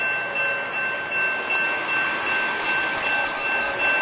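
Northbound Coaster commuter train passing through Del Mar, a steady loud rolling rumble with a thin high wheel squeal running over it, close by and without voices.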